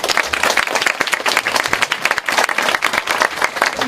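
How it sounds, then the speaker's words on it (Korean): Audience applause greets a judge being introduced at a Korean polytechnic bio-campus competition event, loud dense clapping from a crowd continuing steadily throughout. "큰 박수 부탁드립니다."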